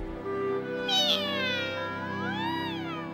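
A cartoon kitten gives a high, sliding meow that swells in the middle, followed by a second, softer rising and falling mew over a steady animated soundtrack background.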